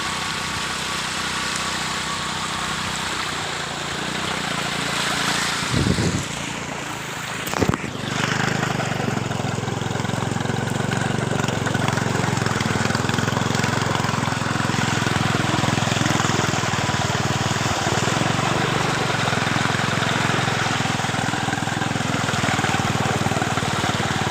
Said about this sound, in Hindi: फिर भी हम बाइक पानी में चला रहे हैं